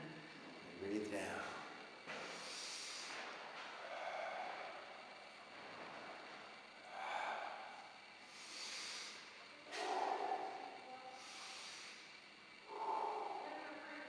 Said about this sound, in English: Breathe in and out and in and out.